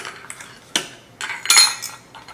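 Heavy metal drinking straws clink together near the mic in a few bright, sharp taps and rattles, loudest in a cluster toward the end, and nobody speaks.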